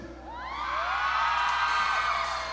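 A concert audience at a summer carnival in Hualien screams and cheers for the band, a loud, sustained swell of shrieks and whoops that rises and holds near the front.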